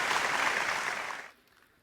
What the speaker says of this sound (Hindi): आपकी भी तालियां हों, दोनों तालियां मैच हों।